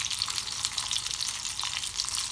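Homemade chicken kebabs fry in a pan, a continuous close, crackling sizzle of hot oil with fine popping spatters, steady in level and unaccompanied by talk.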